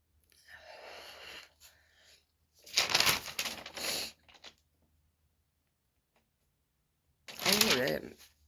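Tarot cards are riffled and shuffled in short bursts, crisp and near, with separate flurries around the start, middle and end and quiet gaps between them.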